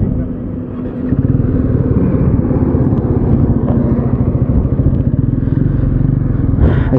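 A KTM Duke 390 BS6 motorcycle engine while riding: a loud, close, steady drone kicks in after a second and holds with a fast, even pulsing throb, with no talk over it.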